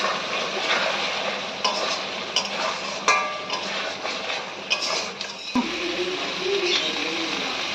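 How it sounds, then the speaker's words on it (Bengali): Spices frying with potato, eggplant and fish in a pan give a low, continuous sizzle, broken by occasional light clinks and scrapes of stirring. "একবার ভালো করে সব কিছু একসঙ্গে কষে নিতে হবে"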